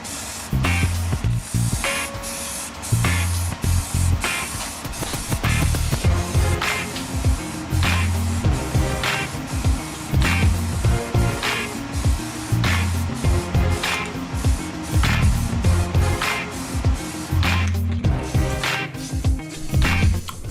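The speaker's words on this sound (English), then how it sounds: "they are then sprayed with filler primer, sanded again, and then sprayed with a regular primer." A spray can lays filler primer onto parts of a homemade Mandalorian pulse rifle prop in repeated loud, close hissing bursts separated by short pauses, with no voices.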